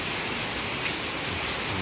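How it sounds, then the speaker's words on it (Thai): Steady rain falling at a Thai cave temple, a continuous even hiss of drops spread across the whole scene, fairly close and unbroken, with no voices over it. "บรรยากาศฝนตกดีผมว่าฝนตกได้ครับ"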